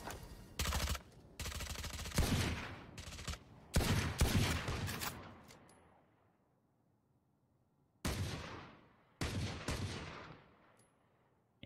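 Bursts of rifle fire rattle loudly in a Valorant match on the map Bind, in several sustained automatic volleys separated by pauses, then two more bursts after a long quiet stretch.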